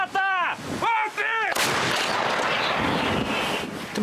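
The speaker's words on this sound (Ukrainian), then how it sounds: "Хлопці зарядили гармату, навелися на ціль і готові стріляти." Loud Ukrainian artillery gun blast with a roaring, rumbling echo that rolls on for seconds, preceded by a few short shouted voices.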